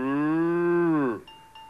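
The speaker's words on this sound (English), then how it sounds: "Cow." A cow gives one long, loud, close moo that holds steady for about a second before dropping off, followed by a couple of faint high tones.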